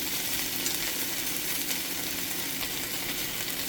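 Sliced bone-in beef chuck short ribs, LA galbi style, sizzle in a hot pan with a constant even hiss at close range and no talking.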